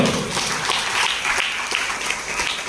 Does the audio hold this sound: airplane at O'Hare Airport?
no